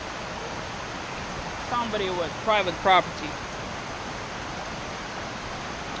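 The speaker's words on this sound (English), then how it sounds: "This is the beginning of the waterfall system." A waterfall in Gorges State Park, North Carolina, makes a steady, even rush of falling water that fills the whole clip, while someone talks briefly over it partway through.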